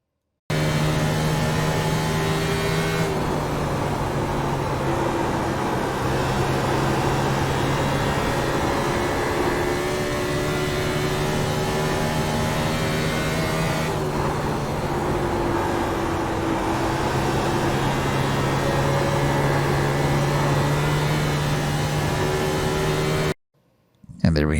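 A race car running a lap of Dover in the iRacing sim, with a steady engine drone and harmonic tones shifting through the lap, continuous and fairly loud with no talking.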